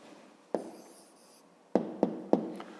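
Pen writing down an answer for a fifth-grade math exercise, soft close scratching on paper broken by a few sharp taps of the pen, quiet with no voices.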